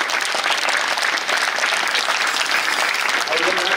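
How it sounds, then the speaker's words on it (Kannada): Dense, continuous applause from a crowd at a village felicitation ceremony where guests are honoured with shawls, loud and close, a steady wash of many hands clapping throughout. "ಸತ್ಕಾರ ಮುಗಿಯೋ ಮಠ ಚಪ್ಪಾಳೆ ಚಾಲು"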